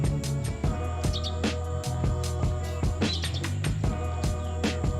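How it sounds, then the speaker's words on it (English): Birds chirp in short, scattered calls beside open rice fields surrounding a hotel in Hoi An, Vietnam, mixed with a constant low background hum and frequent clicking noises. "You can only hear the birds."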